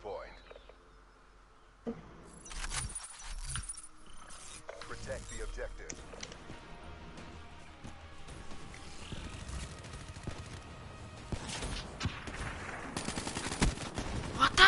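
Call of Duty gunfire crackles in quick bursts alongside mechanical clicks and clanks, fairly quiet overall and building toward the end.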